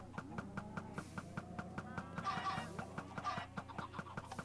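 Chickens cluck softly in Minecraft, small repeated clucks beneath a busy background of rhythmic ticking machinery sounds, fairly faint throughout.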